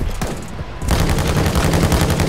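Gunfire in Call of Duty Warzone 2.0, a dense, loud burst of rapid automatic shots that swells into continuous fire after a brief lull.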